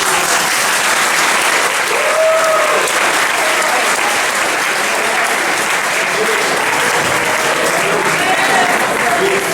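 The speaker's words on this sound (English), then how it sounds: "Let's give a round of applause, everybody." Wedding guests applauding after a toast, a dense, sustained round of clapping from a full room that carries on without a break, with a few voices and cheers mixed in.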